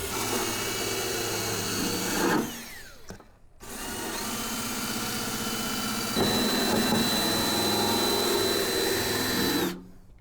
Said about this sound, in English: the next thing I need to do is just wire wheel any surface rust I can get off the bottom of the lip here on the outside